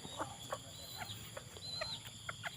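A tame bantam chicken kept free-range on a farm gives soft, scattered clucks, a few short calls spaced through a steady outdoor background with no talking.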